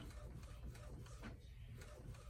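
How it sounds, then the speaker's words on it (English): A DTF printer runs a nozzle check print after a second nozzle clean, giving a steady, dense whir of mechanical printing noise with faint ticking carriage movement throughout, and no talking. "now I'm printing a nozzle check"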